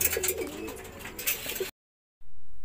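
Hungry pigeons in a loft coo close by, soft throaty calls for under two seconds that stop abruptly, followed by a brief silence and then a low hum.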